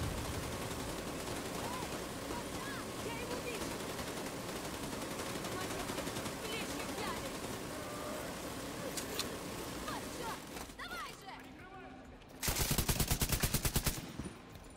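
Gunfire in the video game Tom Clancy's The Division 2 on Xbox Series X, a couple of shots amid a dense, busy game soundscape, with a louder burst near the end and voices talking throughout.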